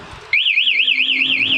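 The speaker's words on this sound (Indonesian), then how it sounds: "maka alarm tetap bunyi seperti ini" A Honda Beat scooter's aftermarket MP one-way anti-theft alarm starts abruptly after a faint lead-in, then warbles loudly and continuously in a rapid rising-and-falling siren tone over a low steady hum, up close with no talk.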